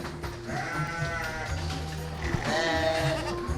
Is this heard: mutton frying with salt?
no